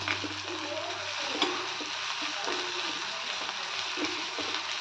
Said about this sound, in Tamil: கருவேப்பிலை போட்டு நல்லா கொஞ்சம் எண்ணெயில் வதக்கலாம்.